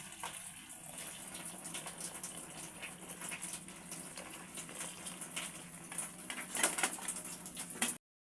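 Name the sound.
draining water from boiled chicken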